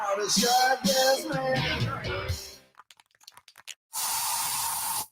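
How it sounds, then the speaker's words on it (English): A voice talks over music, then after a short pause a steady bug spray aerosol hisses loudly indoors for about a second. "So you just used bug spray in your home."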